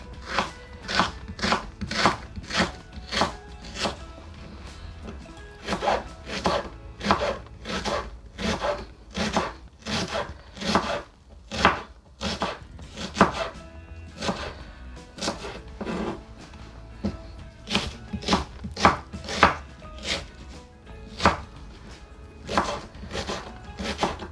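A knife chops onions on a board in fast, regular bursts of sharp strokes, close and clear, with brief pauses between runs and no talking.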